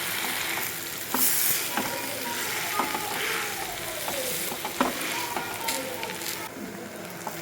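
Boiled potatoes sautéed in masala paste, a steady close sizzle broken by scattered spatula scrapes and knocks as the pieces are pressed and turned.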